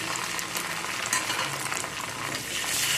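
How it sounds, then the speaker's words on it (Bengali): Ground cumin and green chilli paste hitting hot oil with young jackfruit in a pan, a dense, steady crackling sizzle heard up close throughout, with no voices. "এখন এর মধ্যে দিয়ে দেবো যেটা জিরেটা যে বেটে রেখেছিলাম, জিরে আর লঙ্কা, ওটা দিয়ে দিলাম।"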